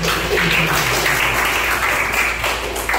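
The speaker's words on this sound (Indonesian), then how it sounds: "Kasih aplaus dulu." An audience at a university teaching session gives a short burst of steady, close applause that holds throughout.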